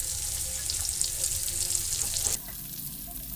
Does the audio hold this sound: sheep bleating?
no